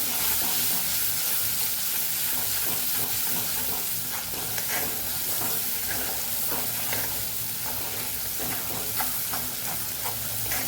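Spice masala sautés in hot oil for a Kathiyawadi cluster bean and potato curry, giving a constant close sizzle with soft stirring and scraping throughout and no voices.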